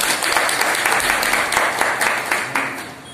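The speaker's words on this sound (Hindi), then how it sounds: "जोरदार तालियों से स्वागत करें।" Enthusiastic audience applause welcoming a guest at a Yoga Day event in Palghar, a sustained, fairly loud roar of many people clapping that gradually eases off.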